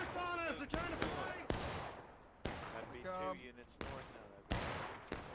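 Several sharp gunshots crack out irregularly in a historical battle video game, some close and loud, some fainter, each with a short echoing tail, under intermittent tonal game sounds.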